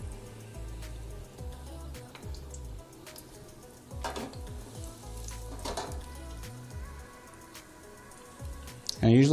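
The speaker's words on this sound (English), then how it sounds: "And I usually fry them till they're golden brown." Salted fish fritters frying in hot oil, a steady, fairly quiet crackling sizzle with occasional louder pops and stirring knocks, near and continuous.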